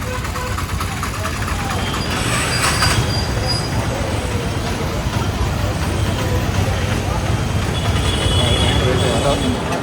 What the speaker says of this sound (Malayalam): അങ്ങനെ നമ്മൾ കോയമ്പത്തൂർ റെയിൽവേ സ്റ്റേഷൻ്റെ അവിടെ